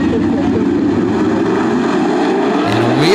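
Dirt track race cars roar through a heat race at Attica Raceway Park, a loud continuous engine drone from a pack of cars, with one engine rising in pitch near the end.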